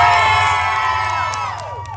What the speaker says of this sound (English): Please cheer louder so they give me a Christmas bonus.